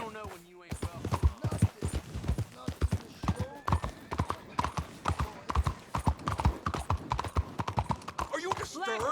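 Horse hooves clip-clop steadily in Red Dead Redemption 2, a close, rhythmic run of sharp hoof strikes that carries on under character dialogue throughout.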